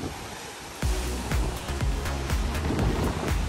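Wind and waves beside an overwater villa in the Maldives, with steady wind rush broken by soft, repeated wave slaps against the structure at close range.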